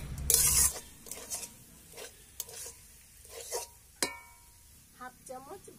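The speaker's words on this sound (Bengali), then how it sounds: "হলুদ গুঁড়ো 1 চামচ, গুঁড়ো 1 চামচ, ভালো করে মিশিয়ে কষিয়ে নেব" Spoon stirring turmeric powder and ground spices in a frying pan, with a soft sizzle under a series of short scraping strokes and clinks, close and moderately quiet.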